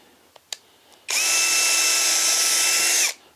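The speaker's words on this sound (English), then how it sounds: "Drill a hole a little bit smaller than the nail." A Hyper Tough drill bores a hole into a pallet wood board: a couple of small clicks, then a loud, steady, high whine for about two seconds that cuts off abruptly.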